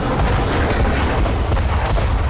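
War footage full of dense, continuous booming from explosions and artillery fire, loud and thick throughout with heavy low rumble and no pauses.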